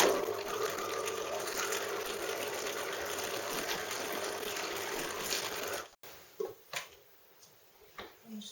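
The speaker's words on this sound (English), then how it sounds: "So I might want to make my machine stitches closer together." A Bernina domestic sewing machine stitches in a close, steady mechanical hum with rapid needle chatter for about six seconds, then stops abruptly, leaving a few faint clicks and handling sounds.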